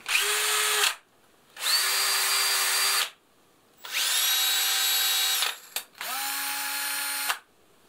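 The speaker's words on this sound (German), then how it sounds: "Was ich persönlich bei einem Akkuschrauber auch noch wichtig finde, wie hört er sich an, wenn man Vollgas gibt?" A cordless drill runs at full throttle in four separate bursts, each a steady high whine lasting over a second, separated by short silent pauses, close and loud.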